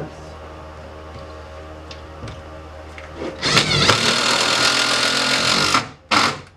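Power driver sinking screws into leveled wooden floor trusses indoors, a loud close whirring burst lasting a few seconds, then a second short burst, after quieter background.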